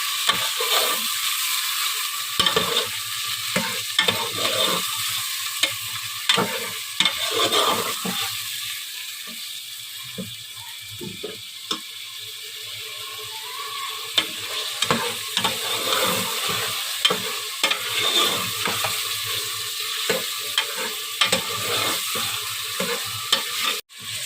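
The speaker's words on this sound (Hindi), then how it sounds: "गोश्त को मैं अच्छे से फ्राई कर लिए है" Goat meat sizzles and fries in a pot while a utensil scrapes and stirs repeatedly, with clattering clicks throughout; no one speaks.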